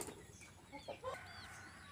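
Japanese bantam chickens cluck softly in a coop in Lucknow, giving a few short close calls against a faint, quiet background.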